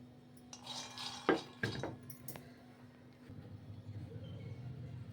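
Peanuts being dry-roasted and stirred in a hot kadhai, heard as a few sharp metallic scrapes and clinks of the spoon against the pan over a low steady kitchen hum.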